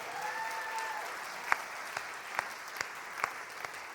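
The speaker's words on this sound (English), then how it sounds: "let's give a huge round of applause to the entire AMNADance team." An audience at a dance recital applauds steadily, with a few sharper claps standing out at a loose, regular rhythm over the dense patter; a brief whistle-like tone sounds early on.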